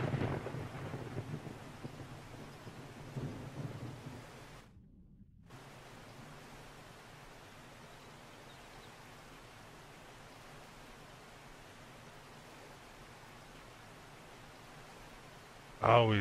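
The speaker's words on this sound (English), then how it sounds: "I'm sick of it always raining." Rain and thunder in the survival video game 7 Days To Die, with a broad hiss of rain that is loudest in the opening seconds and then continues as a low, even wash.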